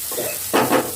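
Chopped carrot, capsicum and spring onion go into a hot frying pan for creamy pasta, giving a brief close sizzle with two quick scraping stirs.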